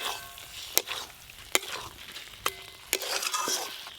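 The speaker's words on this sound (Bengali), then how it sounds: "মশলা আর ডিম একসঙ্গে পুরো ভালো করে মিশিয়ে নিয়েছি" Fried eggs being stirred into masala in a pan for a tangy egg curry: a bubbling sizzle under sharp, spaced knocks and scrapes of a spoon against the pan, about four distinct hits, close by, with no talking.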